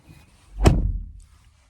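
A single solid thunk as a door shuts on a 2021 Kia Forte GT, one close, short impact with a brief low resonance in an otherwise quiet interior.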